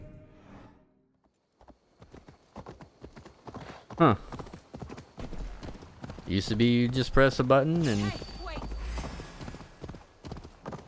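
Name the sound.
horse hooves clip-clopping in video game Assassin's Creed Valhalla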